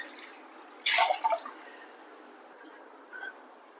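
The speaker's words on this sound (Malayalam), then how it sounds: "നമുക്കിതിലേക്ക് വെള്ളം ഒഴിക്കാം" A brief splash of water poured into a pot of green gram dal for payasam, followed by a fainter trickle a couple of seconds later, in a quiet room.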